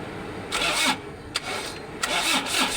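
A Toyota HiAce van's starter cranks in a few short bursts after a starter repair, each turnover a brief whirring grind, moderately close with no talking.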